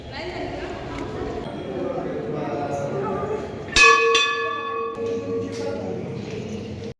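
A single bright temple bell is struck midway and rings out, its metallic tone lingering and fading over a murmur of crowd chatter at the temple.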